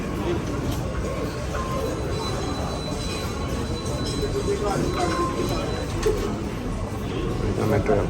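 Dubai Metro train in motion, a steady loud rumble of wheels on rails with faint squealing and interior hum throughout, with people talking over it.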